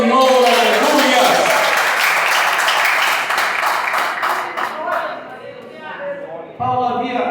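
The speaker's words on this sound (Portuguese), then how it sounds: "Se você puder, aplauda ao Senhor." A church congregation applauds during a Portuguese-language sermon, a dense, sustained wash of clapping that thins toward the end before the preacher's voice returns.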